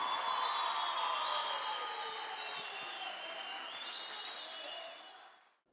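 Applause at a speaking competition final as a group spokesperson is welcomed to the stage, a steady moderate wash of clapping mixed with tonal ringing, fading out just before the end.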